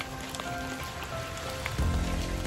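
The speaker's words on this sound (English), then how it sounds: "listening to the water softly dripping off the leaves" Rainwater drips softly off leaves in a quiet natural spot in Northern Spain, a gentle, close patter of scattered drops.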